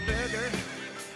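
A horse neighs in a long, wavering whinny that rises and falls, loud and close, with a brief second burst near the end.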